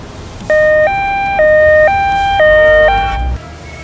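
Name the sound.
ambulance siren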